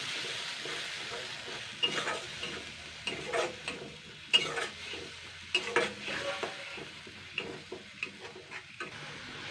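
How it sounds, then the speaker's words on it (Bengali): Spice paste frying in leftover fish-frying oil for a Bengali bata fish curry, with a steady quiet sizzle broken by repeated scraping stirs of a spatula against the pan. "মাছ ভাজার তেলে কিন্তু এই পেস্টটা দিয়ে দেবো। এটাকে আমি এবারে কষিয়ে নেবো ভালো করে"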